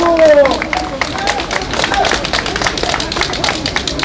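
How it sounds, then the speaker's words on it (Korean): An audience at an outdoor rally claps steadily in a sustained, crowded round of applause, with a voice over a loudspeaker trailing off at the start and crowd murmur mixed in. "최승재 의원님께 다시 한번 박수 부탁드립니다"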